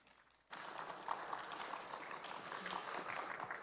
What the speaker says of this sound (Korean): 대표님 무대로 올라오시면 뜨거운 박수 한번 부탁드리겠습니다